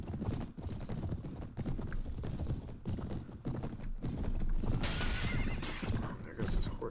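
A horse whinnies amid the galloping clatter of cavalry hooves in a Prophesy of Pendor battle in Mount & Blade, the neigh rising over continuous combat noise while someone talks over it.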